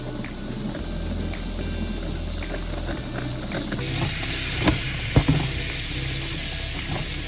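Butter sizzles in a frying pan with thyme, a constant hissing fry that runs the whole time, broken near the end by a few sharp clatters of the pan or spoon.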